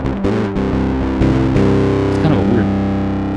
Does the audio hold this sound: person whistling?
no